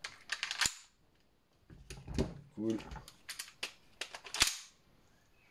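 A BB pistol firing 4.5 and 6 mm BBs gives a quick string of sharp, close snapping clicks in two bursts separated by brief pauses, with a short spoken word between the shots.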